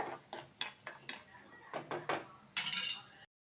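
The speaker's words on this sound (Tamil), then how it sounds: "அடுப்பை ஆஃப் பண்ணிவிட்டு இதை ஒரு பிளேட்டுக்கு மாற்றிக்கலாம்" Fried nuts are scraped and tipped from a metal pan onto a plate, a run of distinct metallic clanks and scrapes ending in a brighter rattle, close and alone.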